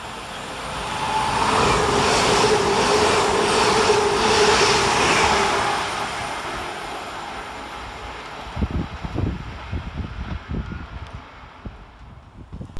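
TransPennine Express train 397004, running from Edinburgh Waverley to Manchester Airport, passes fast through Burnage railway station: a loud, rising roar that swells and fades, followed by a series of rhythmic wheel clatters over the rail joints as it recedes.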